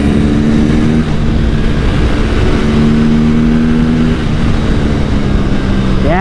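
Kawasaki Ninja 500 SE or Aprilia RS457 sport motorcycle engine held loud and steady at high revs, droning continuously with slight pitch shifts, then a rising rev sweep right at the end.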